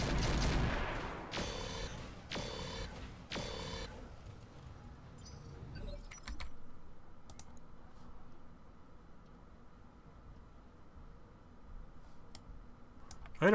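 Mech weapons fire in the Roguetech video game with a few heavy, rapid bursts at the start, then sparse clicks and distant shots over a quieter background.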